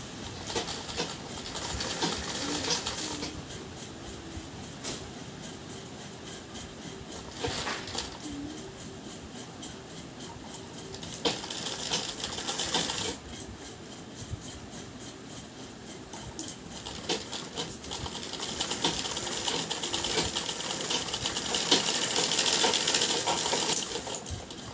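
Sewing machine stitching cord piping onto blouse fabric, sewing 0.2 inch from the edge. It gives a continuous, close mechanical whir in several long runs with brief pauses, and no talk over it.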